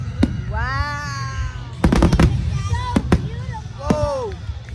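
Fireworks at a Thunder Over Evans display go off in several sharp, loud bangs and crackling bursts, spaced unevenly, while people talk and exclaim excitedly nearby.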